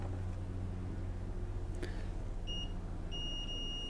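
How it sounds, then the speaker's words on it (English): A continuity tester beeper sounds in short, clear tones on a liquid-damaged Asus Prime Z370 motherboard with a dead short, heard as bursts over a steady low hum. "Let's turn the beeper on."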